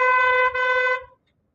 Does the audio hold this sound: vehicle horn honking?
yes